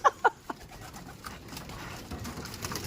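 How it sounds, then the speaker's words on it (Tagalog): A couple of sharp knocks open, followed by soft pigeon coos at a pigeon loft in a faint, noisy outdoor background. "Yan yung mga ibon, ang gaganda."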